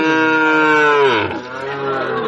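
A desi and Sahiwal cross calf at the Ambari cattle market gives one long, loud, close moo that sustains and dips in pitch near the end, with no talk over it.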